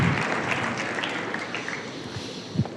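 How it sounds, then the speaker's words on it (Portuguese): Church audience applauding during a sermon gathering, a steady wash of clapping hands for about three seconds with a few sharper claps near the end. "Um aplauso para Jesus pelo Jeff."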